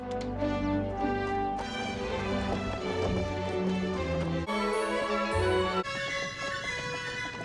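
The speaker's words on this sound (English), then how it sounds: "Ariel sat beside Prince Eric in his horse-drawn coach, smiling as they swept out of the castle gates." Hooves clop rhythmically beneath a layered orchestral music score, the steady trotting partly buried in the swelling music.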